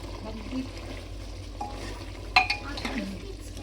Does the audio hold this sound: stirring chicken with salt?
yes